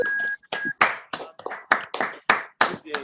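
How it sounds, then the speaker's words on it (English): Several online meeting attendees at a Rotary Club induction clap over unmuted microphones, about ten sharp, separate bursts in an uneven rhythm, close and clipped, each cutting off abruptly between claps. "You can unmute for applause."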